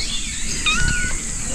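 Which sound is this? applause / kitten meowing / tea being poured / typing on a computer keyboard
kitten meowing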